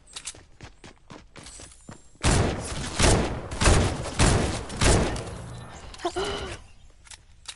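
Thermal-scoped AR firing in a video game: a few light clicks and footsteps, then several loud bursts of automatic fire in quick succession, followed by a brief vocal exclamation.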